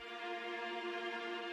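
Sustained bowed strings of a string ensemble trembling in rapid sul ponticello tremolo, a steady shimmering chord held throughout at moderate volume with no voices.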